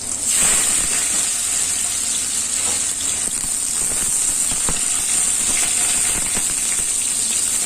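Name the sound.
potatoes frying in oil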